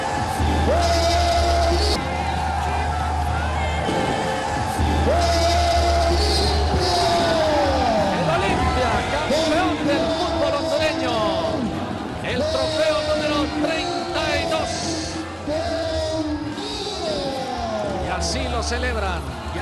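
A crowd cheers and yells at a football club's back-to-back championship celebration in a stadium, a dense, loud and continuous roar with whoops and chanting swells, a commentator talking over it throughout.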